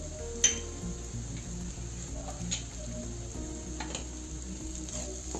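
Turmeric, red chili powder, cumin and coriander powder sautéing in a pan for radish paratha filling, a steady low sizzle with soft stirring clinks and a sharp tap near the start.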